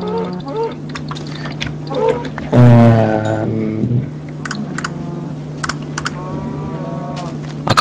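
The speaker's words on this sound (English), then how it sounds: "There's just so many cows around here." Cows mooing in Minecraft, a long drawn-out moo standing out near the middle over steady game ambience, with keyboard clicks and people talking throughout.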